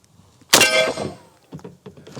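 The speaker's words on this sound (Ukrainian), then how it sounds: "постріл." An AK-47 fires a single 7.62x39 round at a thin metal plate, one sharp, loud report with a quickly decaying tail, followed by a few faint knocks.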